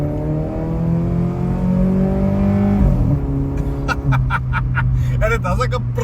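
A modified 1.6-litre VW Polo in Tiptronic mode revs hard through the gears in a steady rising engine drone, then pops and crackles sharply between shifts, close and loud with the window down.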